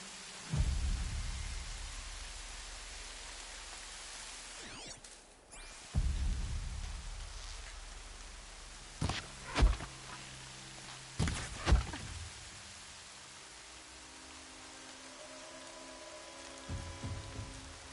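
Rain patters steadily in the Horizon Zero Dawn video game, broken by several sharp thunder cracks and rumbles, with a soft tonal hum near the end.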